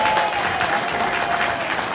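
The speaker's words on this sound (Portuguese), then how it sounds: "Eu quero ouvir os vossos aplausos para o nosso amigo João Pimentel" An audience claps steadily at a community codfish dinner, dense continuous applause filling the room without pause and no voices rising above it.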